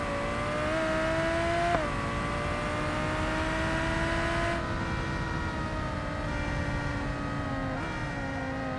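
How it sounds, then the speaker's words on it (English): A loud car engine in the video game BeamNG roars steadily throughout, its pitch shifting as it revs and changes gears, close and continuous, with no voices. "The engine's so loud it's drowning out the sirens."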